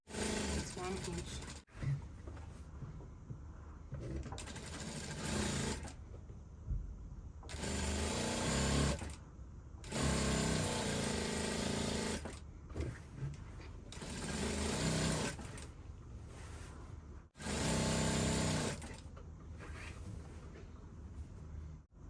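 Sewing machine running in loud bursts while stitching a 1-inch side seam on a bubu dress with a standing collar, stopping for a backstitch at the sleeve opening; several start-stop runs separated by short pauses.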